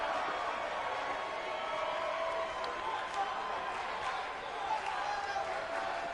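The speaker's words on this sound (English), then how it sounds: "Look at that crowd." Steady roar of a large arena crowd in the WWE 2K19 wrestling video game, a continuous dense wash of cheering with faint scattered claps and shouts throughout.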